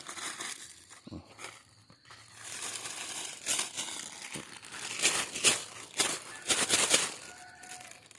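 Perforated plastic bags, the kind pre-punched with small holes and used for wrapping rose apples, crinkle and rustle in repeated bursts at close range, growing louder and busier toward the end, with no talk.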